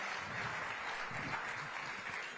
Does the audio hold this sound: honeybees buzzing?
no